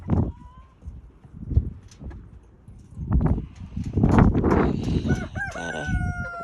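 A rooster in a chicken courtyard crows with rising harmonic calls toward the end, after scattered clucks and farmyard shuffling, fairly near and moderately loud.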